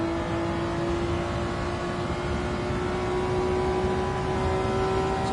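A Honda NSX racing at Interlagos in Gran Turismo 7, its engine droning loudly and steadily at high revs as the pitch climbs slowly through the gear.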